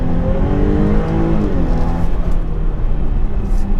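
A Jaguar XE S with a 3-litre V6 revs hard to 7,500 rpm in first gear on tight corners, a loud, close rising engine howl that eases off, then builds again.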